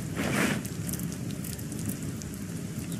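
Rain falls in the RuneScape Dragonwilds video game as a steady, soft hiss of drops on surfaces, moderately quiet and constant with no voices over it.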